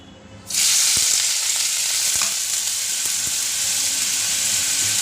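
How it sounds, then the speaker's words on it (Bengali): Crumbled paneer and seeds drop into hot oil and start frying with a sudden loud sizzle that settles into a steady crackle, close up, with a few light stirring knocks. "এখন এটাকে আমি পনির আর এই বিচিটাকে একবারে ভাজবো।"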